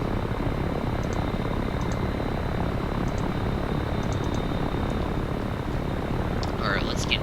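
An MB339 jet in a WWI-themed video game mod, heard as a loud, steady engine roar that drones on unbroken, with a few faint clicks over it.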